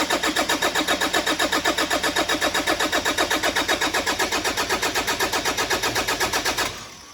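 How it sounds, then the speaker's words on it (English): A brand-new engine fitted with a new turbo cranks over in a fast, even rhythm for about six and a half seconds, then the cranking abruptly cuts off and fades. "We're about to start cranking it over to start the engine."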